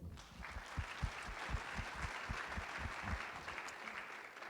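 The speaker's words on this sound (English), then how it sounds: "Let's give them a round of applause, please." Audience at a school district community meeting applauds the performers, a fairly faint, sustained round of clapping with a steady rhythmic pulse running through it.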